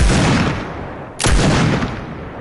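Two loud, close gunshots in Fortnite strike a metal stair, each with a sharp crack and a long, booming tail that trails off.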